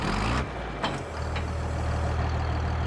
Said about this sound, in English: This tractor probably has the best sounds in the whole game.